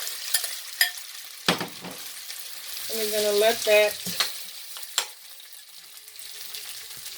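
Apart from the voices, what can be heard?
potatoes sizzling in a pan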